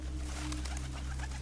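A pigeon gives soft cooing calls against a steady low background hum, near and modest in level, with no voices.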